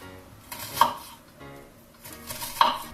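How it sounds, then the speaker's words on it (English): A knife chops food into small cubes on a board, two crisp close knocks about two seconds apart over faint background tones, with no talking. "we can cut slices that are actually little cubes"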